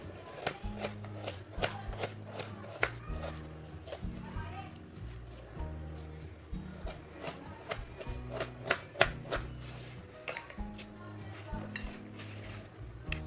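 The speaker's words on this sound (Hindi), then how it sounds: "इसे भी बारीक बारीक काट लेंगे।" A knife finely chopping onion and green chillies on a board, with quick, steady crisp taps repeating throughout at close range, under background voices and occasional kitchen clatter.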